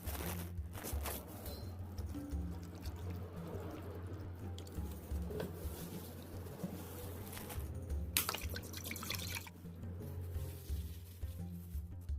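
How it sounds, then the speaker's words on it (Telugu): Water is drained off boiled cauliflower pieces in a home kitchen, giving a steady liquid splashing and dripping with occasional squishy sounds, close and continuous with no talk. "తర్వాత నీటిని ఉడబోసి రెండు నిమిషాల పాటు ఆరనివ్వాలి"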